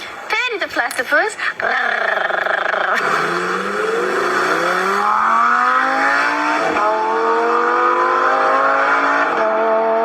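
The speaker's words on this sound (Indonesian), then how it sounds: "Ini adalah Lamborghini Stove. Suara mesin V10 aslinya tuh kayak gini coy." A Lamborghini V10 engine revving hard, with sharp quick blips at first, then a loud sustained high-pitched howl that climbs and shifts through the rev range, close and dominating throughout.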